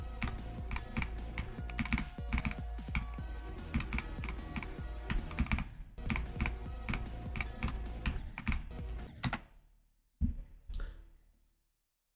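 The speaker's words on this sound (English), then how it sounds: "the person who made the robot that clicks the keyboard" Rapid, steady clicking of a robot pressing keys on a computer keyboard, close and continuous for several seconds before breaking off into brief bursts and silence.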